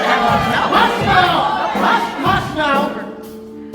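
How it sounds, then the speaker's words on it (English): A crowd boos and jeers at a festival pageant in a live stage musical, with many voices in a loud, sustained, rough roar, close and full. "There's no booing at the Reckel-Remeth festival pageant"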